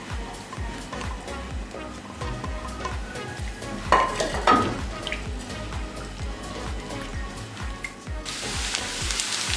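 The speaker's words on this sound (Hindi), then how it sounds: "अब ये डालेंगे इसमें और 1 से 2 मिनट के लिए इसे फ्राई करेंगे।" Chopped onions frying in hot oil in a pan for tawa mutton gravy, a steady sizzle with clinks and scrapes of stirring, and a brighter hiss rising near the end.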